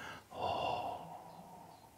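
A person breathes out audibly through the nose, a single soft, airy exhalation lasting about half a second, followed by quiet.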